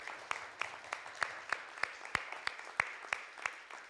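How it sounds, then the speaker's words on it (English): Audience applause after an opera medley performance at a panel event: a sparse run of a dozen or so sharp, evenly spaced claps, fairly close and moderately loud, with no voices over it. "Please give them one more round of applause."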